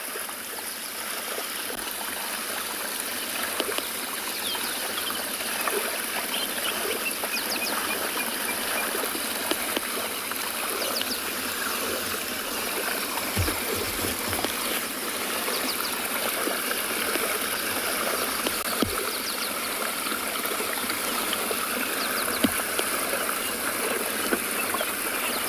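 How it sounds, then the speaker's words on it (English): At sunrise, water flows steadily over a spillway in a constant rushing stream close by, with waves lapping softly against the bank and a few faint low knocks. "listen to the waves lapping up against the bank here and the water flowing over the spillway"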